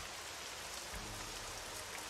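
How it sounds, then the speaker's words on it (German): Rain falls steadily in the strategy video game Strategic Mind: Fight for Freedom, a soft, even hiss of drops with no voices. "So, wir haben Regen"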